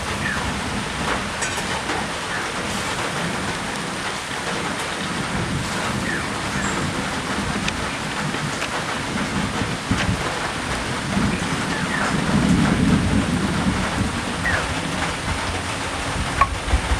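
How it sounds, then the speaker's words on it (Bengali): Stingray fish gravy boiling in a pan, a steady, dense sizzling and bubbling hiss that runs continuously and fairly loud throughout, with no voices. "গ্রেভিটা এখানে ফুটে উঠেছে"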